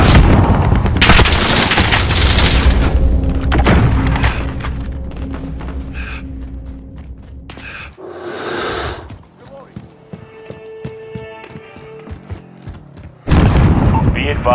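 Precision airstrike in Call of Duty Modern Warfare, with heavy booming explosions up close amid gunfire, a quieter stretch of mechanical clatter and radio chatter, then a loud roar returning at the end.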